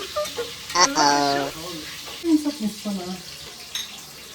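Onions fry in oil for a vegetable biryani, a soft sizzle and stirring heard beneath people talking nearby.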